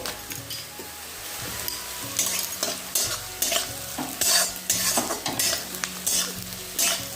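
Onions and fenugreek leaves fry in hot oil with a cumin tempering, giving a dense, close sizzle broken by regular scraping stirs, with faint low kitchen hum beneath.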